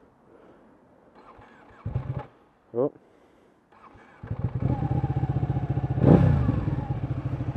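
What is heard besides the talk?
Ducati 1199 Panigale L-twin motorcycle engine starting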